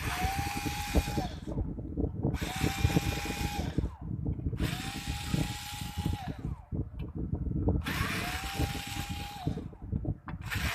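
Parts of a PROEURO TECH EU 9898 amplifier are unscrewed with a power driver, a loud whirring burst repeating about four times in a steady rhythm, close by, with someone talking throughout.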